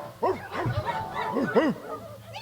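A festival crowd imitates dogs with voices, giving a run of loud, scattered barks, yips and short howls, some overlapping, close to the microphone.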